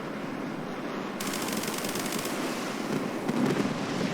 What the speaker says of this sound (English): Let's try some rockets.